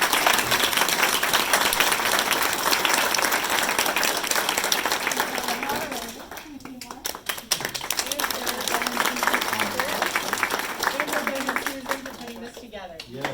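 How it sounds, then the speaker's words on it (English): Applause fills the room at a 2019 Doraville council candidate forum, a dense wash of clapping that thins midway while voices chat and call out over it, then swells again. "let's have a round of applause for all of"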